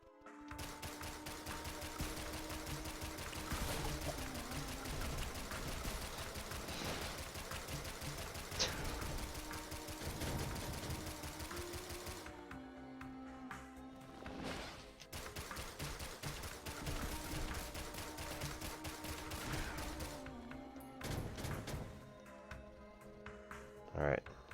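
In the video game Risk of Rain Returns, a fireworks item fires as a rapid, dense crackle of small pops. It runs over continuous game music and effects, with sharper bursts scattered throughout.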